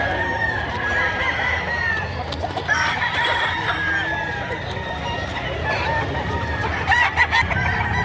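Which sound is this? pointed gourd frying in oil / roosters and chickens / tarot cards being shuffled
roosters and chickens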